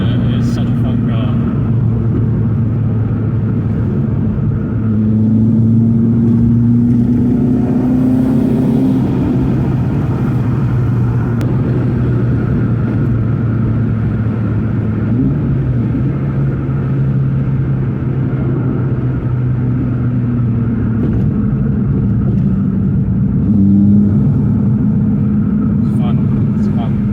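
A cammed Renault Clio 182 Trophy drives along a leafy, muddy back road, its engine droning loud and steady from inside the cabin, the pitch rising and falling with throttle and gear changes while someone talks over it.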